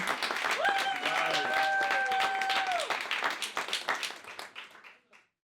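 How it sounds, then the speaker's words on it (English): Audience applauding a comedian as she comes to the stage at a comedy show: dense clapping with cheers and a sustained whoop, holding strong for about three seconds before thinning into scattered claps and fading out. "keep clapping, keep clapping, keep clapping"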